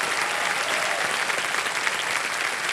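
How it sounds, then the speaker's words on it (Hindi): On a quiz show set, the studio audience applauds to welcome a visiting hockey team, a dense, even wash of clapping throughout. "तालियों के साथ आपका भी बहुत बहुत स्वागत है"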